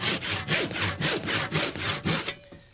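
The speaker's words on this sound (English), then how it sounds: "a handsaw like this would be fine if you were going to cut a couple of 2x4s" A handsaw cutting through wood, its close, rasping strokes sounding in a steady back-and-forth rhythm of about eight passes before stopping abruptly.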